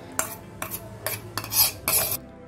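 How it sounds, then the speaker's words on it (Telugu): A spoon stirs custard apple pulp into milk in a metal vessel, making about five distinct scraping clinks against the sides at an unhurried, uneven pace, close and fairly loud. "సీతాఫలాన్ని పాలలో కలిసే విధంగా ఈ విధంగా కలుపుకోవాలండి"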